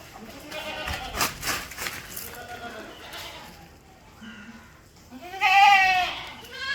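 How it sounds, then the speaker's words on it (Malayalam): Goats bleat several times, the loudest call near the end, close by, with voices talking in between. "വളർത്താൻ പറ്റിയ നല്ല ആടുകുട്ടി കേട്ടോ"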